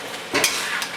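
Chicken pieces sizzle loudly in a hot pan as they are stir-fried for kung pao chicken, with a quick scrape of stirring in the brief, close burst.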